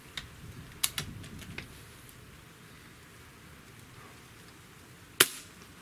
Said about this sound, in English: Okay, so now 5 shots on low power setting.